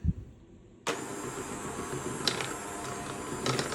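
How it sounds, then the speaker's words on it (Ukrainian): An electric mixer switches on abruptly and whips chocolate cupcake batter with a steady, close whirring drone, the motor tone holding level and rising slightly toward the end. "Збиваємо недовго, також тільки до об'єднання."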